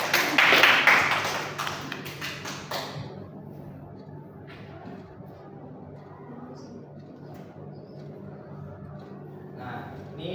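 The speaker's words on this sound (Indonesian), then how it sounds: "Tepuk tangan untuk Lila dan" Classroom applause for two students, Lila and Herlin, a burst of clapping from a small group that fades out within a few seconds, followed by quieter room sound with faint talk.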